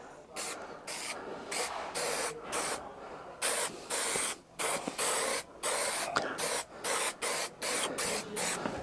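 Spray carpet adhesive hisses from an aerosol in a series of repeated short bursts with brief gaps between them. The glue is being applied while a car's carpet set is fitted.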